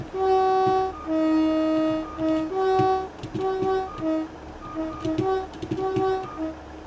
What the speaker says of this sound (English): Listen to the new horn, by the way.